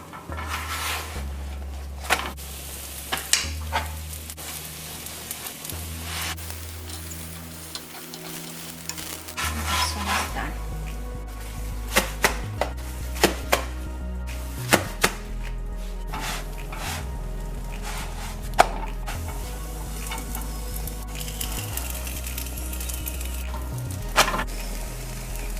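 Oil roti cooks in a pan and its edges are pressed down, giving a soft ongoing sizzle broken by repeated sharp scrapes and taps of a utensil against the pan, with low rumbling underneath.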